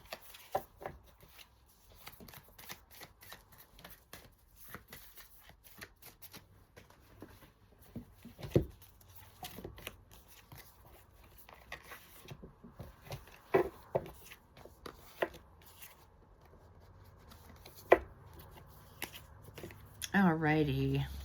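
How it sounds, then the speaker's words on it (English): Tarot cards being gathered up and shuffled, giving soft scattered taps and rustles at a low level, with a denser riffling burst near the end. "I'm just going to gather these cards up and shuffle them and put them back in the deck"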